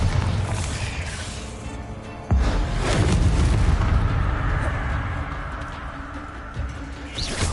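A Bombarda blasting spell from Hogwarts Legacy goes off with a sudden loud boom, followed by a long rumbling, crackling tail of debris and echo.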